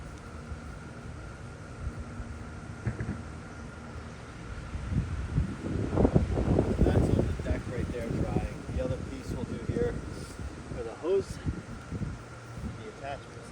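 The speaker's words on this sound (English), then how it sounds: "I apologize because it is a windy day today" Outdoors on a windy day, gusts buffet the microphone with low rumbling and whooshing that swells in the middle, while someone talks over it.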